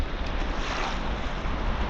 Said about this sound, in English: I was greeted with a sight of breaking waves